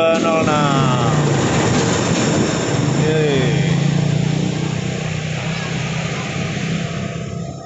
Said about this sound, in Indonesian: dan di belakang CC 206 ada kereta komuter KRL